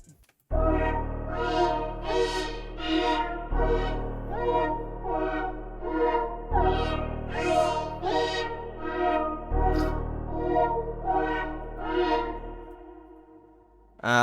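Low piano notes layered with a quieter octave above in FL Studio, a gloomy dark beat of sustained chords changing every few seconds, with a deep bass note under each chord and a bright, echoing upper melody.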